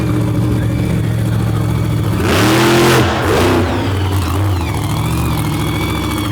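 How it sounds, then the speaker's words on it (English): Supercharged big-horsepower drag truck engine at a Pennsylvania kick-off event, revving hard with a swelling blower whine over a steady idle rumble, peaking in two loud bursts before settling back. "You can hear the blower whine out of that awesome big horsepower motor in the back"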